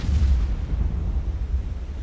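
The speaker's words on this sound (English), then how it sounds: "There was an explosion." A deep, rumbling underwater blast sounds in the submarine warfare game Cold Waters, a heavy low boom that swells and then lingers as a dull roar.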